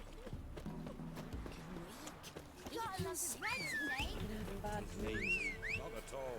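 Quick, steady hoofbeats of a horse clip-clopping in a video game, with bird-like chirps and other game sounds layered over them.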